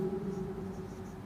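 A teacher writes a heading on a board during a history lesson on the ancient Indian Vedas, a steady low scraping and tapping of chalk or marker that runs throughout at a fairly even level, with no speech.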